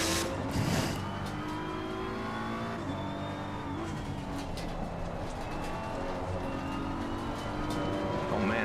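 Race car engine in a VR sim racing game at Zandvoort, droning steadily at high revs with pitch shifts and brief tire scrub as the car oversteers, loud and close throughout with no talking.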